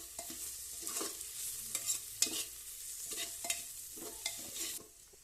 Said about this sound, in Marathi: त्यानंतर आपण ह्याच्यात टोमॅटो घालायचा। त्यानंतर भाजायचं। टोमॅटो परतून घ्यायचा।